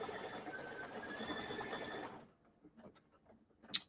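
A computerized embroidery machine stitching an applique for a hot cocoa bar mini quilt, a steady dense mechanical whirring that runs for about two seconds, then cuts off, leaving faint clicks and one brief sharp tick near the end.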